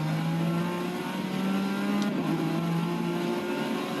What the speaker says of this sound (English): Not the best sounds I've ever heard, but pretty good for a race car from 1998.